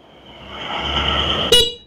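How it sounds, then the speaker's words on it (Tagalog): A very loud horn on a Tromox Pesgo Plus sporty e-bike blasts once near the end, short and sharp over a steady electric hum and light background noise. "Busina na napakalakas."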